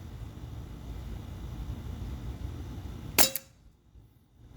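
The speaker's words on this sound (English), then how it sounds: "let's see how well a frozen paintball will mark a steel plate" A Glock 17 Gen 5 T4E .43 caliber paintball pistol fires a single frozen paintball at a steel plate, making one sharp, loud crack with a metallic ring after steady background hiss.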